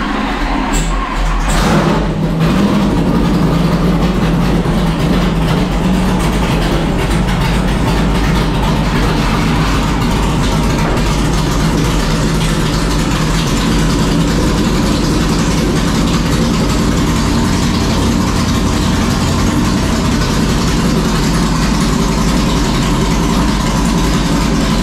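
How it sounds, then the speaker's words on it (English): A carbureted V8-style engine cranks and catches, then settles into a loud, steady idle with a deep, rumbling low end that continues unbroken close to the listener. "first fire up with the carburetor."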